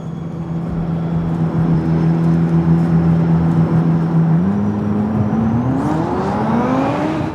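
A Czinger 21C's custom 2.9-liter twin-turbo V8 drones steadily, then its pitch climbs sharply as it revs up toward the end, loud and close with no talking.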